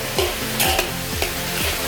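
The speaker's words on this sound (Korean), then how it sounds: "옆에서는 이렇게 닭 튀기고 있습니다." Chicken pieces frying in oil at a street chicken rice stall in Da Nang, Vietnam, a steady hiss of sizzling with repeated scraping and stirring clatters of a utensil, close and loud with no talking.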